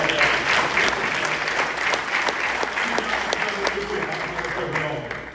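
An audience applauds at an event honoring a basketball coach, with dense sustained clapping from a crowd that stays loud throughout.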